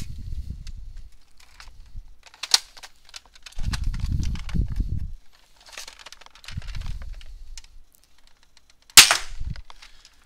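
A spring-powered Nerf Longshot blaster fitted with a hybrid kit and a 14 kg spring, fired a couple of times. Each shot is a sharp, loud snap, separated by low rumbling handling and priming noises.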